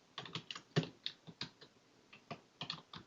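Typing a command on a computer keyboard, with a quick series of close, crisp key taps in an uneven rhythm, with no voices.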